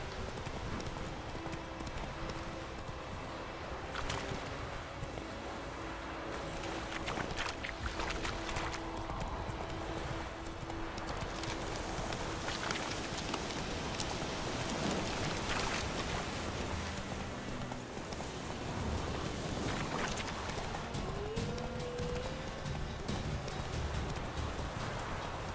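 Horse hooves clip-clopping in the video game The Witcher 3, a steady rhythmic beat continuing for the whole stretch, moderately loud over a background of ambient game sound with occasional tonal music-like hums.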